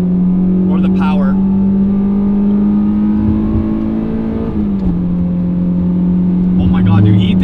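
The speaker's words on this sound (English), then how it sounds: "Well, also, I'm braking the motor." Honda S2000 engine braking while driving on a track, a steady loud drone that dips slightly in pitch as revs fall, with a voice talking over it throughout.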